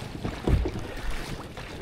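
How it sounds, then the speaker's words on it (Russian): Oars working a small boat pulling away from a shore on a windy day, with uneven low splashes and knocks of the oars in the water, wind buffeting the microphone throughout and no talking. "Я отхожу на веслах от берега"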